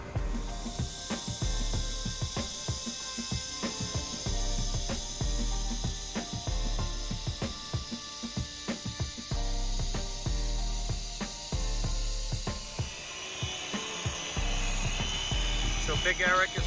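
Wet magic eraser scrubbing car leather upholstery, a close, continuous rubbing with rhythmic squeaky strokes and scraping clicks, under a steady background hiss and a voice talking.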